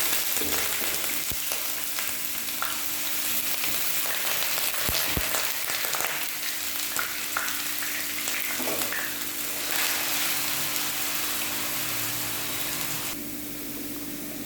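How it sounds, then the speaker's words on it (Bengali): Potatoes sizzle and crackle steadily in hot oil, with occasional clinks and scraping stirs of a utensil against the pan. "এখন আমি কিছুটা পরিমাণ আলু দিয়ে দিচ্ছি, আলুটাকে কিছুটা ভেজে দিচ্ছি"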